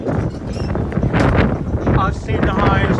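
Strong wind, gusting up to about 45, buffets the microphone on a balcony in loud, rumbling gusts, roaring steadily with surges throughout.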